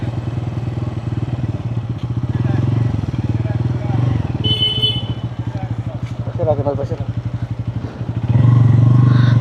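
A motorcycle engine idles close up while being parked in shade, with a steady chugging rumble, some clattering and a brief rev near the end.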